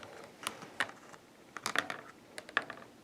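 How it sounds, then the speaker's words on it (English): A zip tie is fastened onto a short rear fender of an Onyx RCR electric moped, giving faint, sparse ratcheting clicks and plastic ticks in small clusters, close and quiet with no talking. "And just zip tie it on there."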